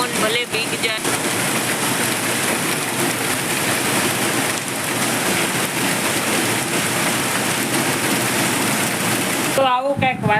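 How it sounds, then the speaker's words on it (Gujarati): Heavy rain falls steadily outdoors in a loud, dense, continuous hiss close to the microphone, and a voice speaks briefly at the very end. "આવો કંઈક સરસ મજાનો વરસાદ આવે છે અને વરસાદ તો બહુ આવે છે"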